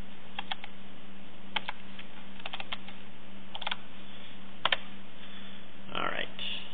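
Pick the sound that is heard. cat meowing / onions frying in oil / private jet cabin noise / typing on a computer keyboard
typing on a computer keyboard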